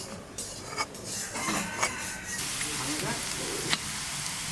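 Onion sizzling in hot oil in a pan for a Bengali-style pomfret fish dish, a steady hissing crackle with a few stirring clinks and scrapes, fairly close and continuous.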